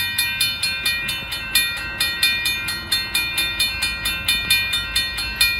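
A northbound Union Pacific intermodal freight train rolls past at the Oltorf Street crossing in Austin, Texas, with a steady rhythmic clatter of wheels over rail joints, loud and close throughout.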